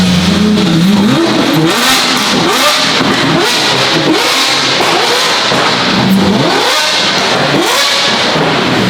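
A Lamborghini SVJ fitted with a Gintani F1 exhaust and flame tune revs repeatedly, loud and close, its high-pitched engine note sweeping up and down in a series of rising pulls with no talk.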